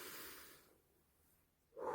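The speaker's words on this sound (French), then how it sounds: "Prenez une respiration lente." A slow breath drawn during a calm guided relaxation, a soft airy rush that fades into near silence before a brief tonal sound begins at the very end.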